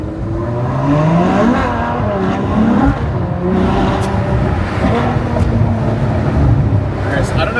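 Ferrari 812 Superfast tires sliding without grip, a loud sustained engine roar with rising and falling revs and scrubbing tire noise throughout, a voice talking over it.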